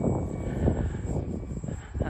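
A small Dynam Tiger Moth model biplane's engine drones steadily overhead with a thin high whine, wind buffeting beneath it.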